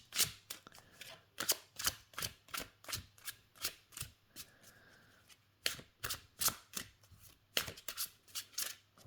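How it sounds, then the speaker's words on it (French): Oracle cards are shuffled by hand in steady rhythmic bursts of sharp riffling slaps, close and clear against a quiet room, with one short pause midway. "Alors, on va tirer donc une petite carte."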